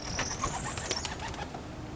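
Racing pigeons coo softly in a loft, with a steady low murmur of calls and a few faint chirps, close and continuous, with no talking.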